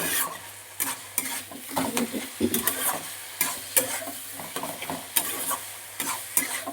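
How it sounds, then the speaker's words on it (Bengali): Spices and red chili powder stirred in a frying pan on a gas stove, a close sizzle broken by repeated spatula scrapes and knocks in an uneven rhythm. "এবার আবারও একটু নেড়ে নিচ্ছি"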